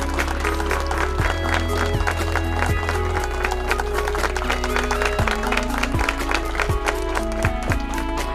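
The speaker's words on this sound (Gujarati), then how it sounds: "આપણે સૌ તાળીઓથી વધાવશું" Audience applause at a general assembly and farewell gathering of the Talati-cum-Mantri association in Devbhoomi Dwarka, a steady spread of claps over a droning tonal background, continuous and fairly loud throughout.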